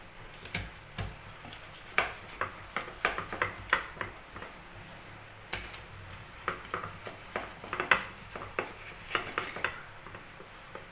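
Spices for a rica-rica fish paste are pounded by hand in a stone mortar with a pestle, giving irregular sharp knocks and scraping strokes close by, fairly quiet and without talk.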